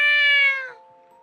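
Cat meowing: a single clear, fairly loud meow that holds for about half a second and then trails off into a quieter fading tail, close by with no voices.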